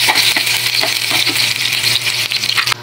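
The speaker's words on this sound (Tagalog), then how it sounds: "Sangkutsa lang natin hanggang sa brown ng kaunti yung ating ricado, sibuyas," Chopped onion and garlic sautéing in hot oil, a loud, steady, dense sizzle close by with light stirring scrapes throughout and no talking.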